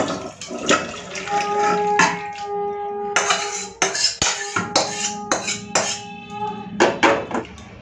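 Cauliflower and potato curry broth poured from a pan into a bowl, with sharp clinks of a metal utensil against the dishes and a soft liquid splash running underneath, close and fairly loud.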